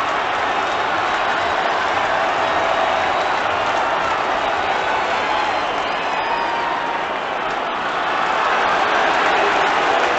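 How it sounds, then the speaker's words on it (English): Baseball stadium crowd at a Reds versus Brewers game, booing as a fan is taken down on the field: a steady, dense roar of many voices filling the whole stretch, broad and sustained with slight swells. "the crowd is booing because they have taken this guy down"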